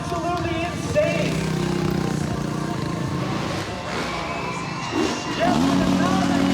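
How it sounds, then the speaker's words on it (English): Stunt motorcycles revving at a Peach Festival bike stunt show in Penticton, engines rising and falling in bursts beneath a cheering crowd, with a voice talking over the noise throughout. "The bikes are a little bit loud, but the crowd is louder"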